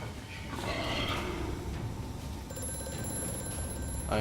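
Telephone ringing in the horror game Amnesia: A Machine For Pigs, a loud repeating electric ring over the game's dark ambience, heard alone.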